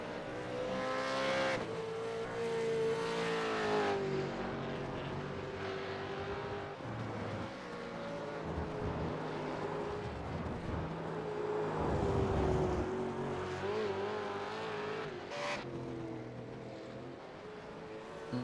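V8 Supercars race cars at the Road Atlanta circuit, engines droning and revving with shifting pitch through corners and passes, heard steadily at moderate distance.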